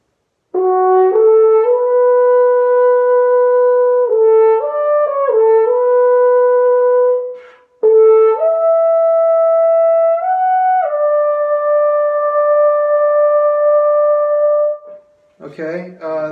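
A custom nickel silver triple French horn plays a Rocky 3 excerpt, solo and close, with sustained legato notes in two phrases separated by a short breath, ending with a brief noise.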